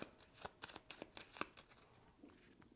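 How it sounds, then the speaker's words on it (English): A deck of cards is shuffled at a table during a game of Final Girl: Frightmare on Maple Lane. It makes a soft, quick series of riffling clicks and flutters, quiet and close, with no talking. "We shuffle those back up."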